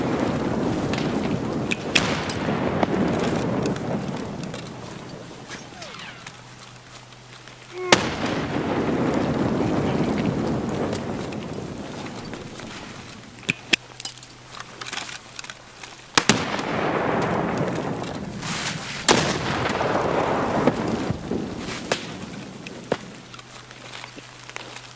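Grenades explode in Escape from Tarkov, several heavy booms spaced seconds apart. Each one is followed by a rolling rumble, with footsteps and light clatter in between.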